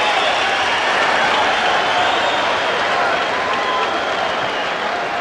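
A boxing crowd at the Jeff Lacy vs Rubin Williams fight roars and cheers loudly and steadily throughout, a dense wash of voices and applause filling the arena.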